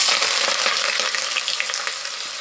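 Finely chopped onions, curry leaves and bay leaf fry in hot oil in a pan for lentil biryani, making a loud, steady close-up sizzle with light stirring and no talking.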